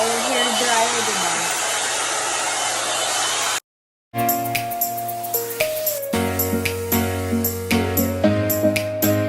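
A 2-in-1 hair dryer and volumizer brush blows a loud, hissing rush of air, cuts out abruptly, then restarts with a tonal motor whine punctuated by repeated clicks and bumps as it is handled.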